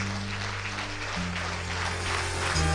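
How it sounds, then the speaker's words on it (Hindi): Applause from an audience at a motivational event, welcoming guests onto the stage; steady clapping throughout with a background musical drone. "इन सभी का जोरदार तालियों से"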